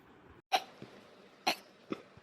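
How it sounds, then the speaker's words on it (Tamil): A few sharp, abrupt hiccups sound close up, spaced roughly a second apart, each with a quick throaty catch and small breaths between. "தண்ணியை குடிச்சும் விக்கல் நிக்கல"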